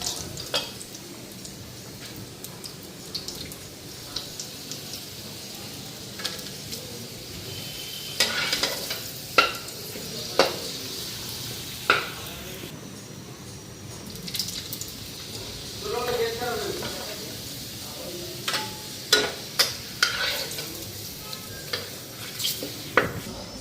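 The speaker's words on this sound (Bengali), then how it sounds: "পাপড়গুলি আগে ভাজা নেই" Papad (pappadam) frying in a pan in a home kitchen, with a continuous crackling sizzle, scattered clinks and scrapes of utensils, and intermittent louder pops over a fairly quiet background, with voices faintly present at times.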